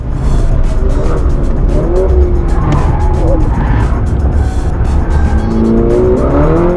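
A race car runs a lap at High Plains Raceway in traffic, its engine roaring loud and close throughout with tires squealing through the corners; the roar shifts in pitch as it accelerates, brakes and changes gear.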